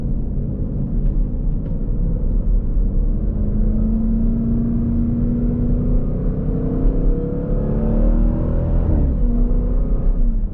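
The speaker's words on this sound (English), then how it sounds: "when you roll the windows down, the supercharger gets twice as loud" A supercharged V8 in a Jeep Grand Cherokee Trackhawk drones loudly from nearby with the windows down, its pitch rising gradually through a long pull before easing off near the end.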